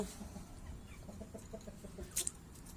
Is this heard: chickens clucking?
yes